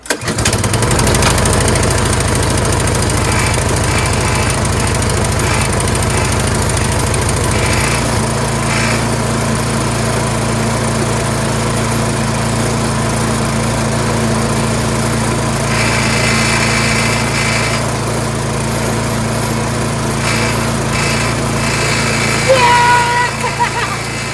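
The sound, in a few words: Troy-Bilt Storm 2410 two-stage snowblower engine running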